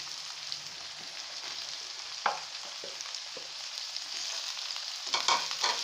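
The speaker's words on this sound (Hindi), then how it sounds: "और टमाटर के साथ अब इन्हें थोड़ी देर हम भूनते हैं" Chicken and tomatoes frying in a pan with a soft, constant sizzle, punctuated by occasional light scrapes and taps of a spoon, fairly quiet and close, with no voices.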